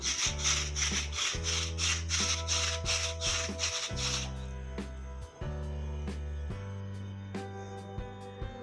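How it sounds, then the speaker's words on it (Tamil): Rhythmic scraping strokes of coconut being grated by hand, about a dozen quick rasps, close up, over a steady low hum that continues after the scraping eases. "தேங்காய் கொஞ்சம் துருவி எடுத்துக்கலாம்"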